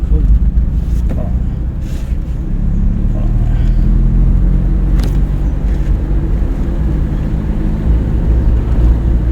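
A car pulls away in low gear during a driving lesson, its engine giving a loud, steady low rumble that fills the whole stretch from inside the cabin, with brief faint sounds of movement on top.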